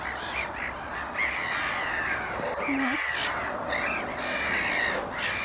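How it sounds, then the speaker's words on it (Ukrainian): A gull calling on a lake, repeated harsh cawing squawks over a steady background wash, one clear call near the middle. "Мартин каркає на озері."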